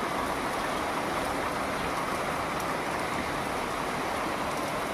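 Heavy rain pours down in a dense, steady hiss with no letup, close and loud throughout, with no voices heard.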